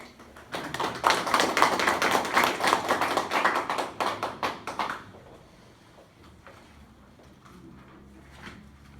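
Audience at a Korean university lecture welcoming a professor from the Classical Chinese education department with a dense burst of hand clapping, loud for about four seconds and then tapering off into quiet room tone.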